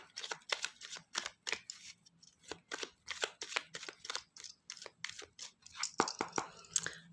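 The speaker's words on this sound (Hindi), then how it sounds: "कार्ड्स को अच्छे तरीके से शफल करेंगे" A deck of tarot cards being shuffled by hand, close and crisp, with quick repeated riffling bursts in an uneven rhythm and brief pauses between handfuls, no voices.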